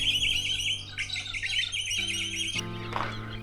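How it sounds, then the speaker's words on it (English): Birds call outdoors in shrubland with a pigeon-like cooing among the voices. Bright chirps and squawks repeat over a steady low drone. "There's something making a cooing noise, almost like a pigeon, but obviously not a pigeon."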